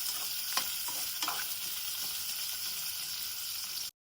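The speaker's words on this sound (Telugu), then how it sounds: "ఇప్పుడు దీంట్లోకి అల్లం ముక్కలు వేసేసుకుందాం. కొద్దిసేపు వేయించుకుందాము." Ginger pieces frying in a pan for hotel-style ginger chutney, a steady soft sizzle with a few brief stirring scrapes, fairly quiet and close, ending abruptly.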